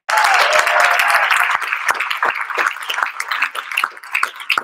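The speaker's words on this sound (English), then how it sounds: "We are going to cheer on our Florida Atlantic winners of this year's 3MT." Dense, loud applause from an audience at the Florida Atlantic Three Minute Thesis championship fills the room at once, then thins into scattered, uneven claps.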